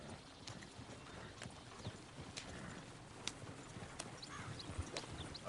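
Horse hooves clip-clop at a steady walking pace in Red Dead Redemption 2, a clear, close rhythm of sharp knocks over faint outdoor ambience.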